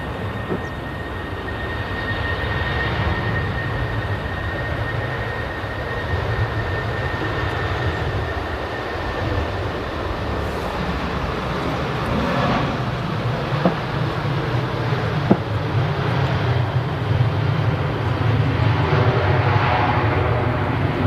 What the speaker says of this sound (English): Using all that runway, but does the same job as everything else. It gets off the ground.